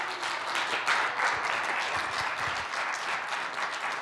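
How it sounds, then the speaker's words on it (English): An audience applauds after a presentation on idea creation and innovation, a steady, moderately distant wash of many hands clapping that holds for several seconds. "if I can get a round of applause from everyone for his presentation"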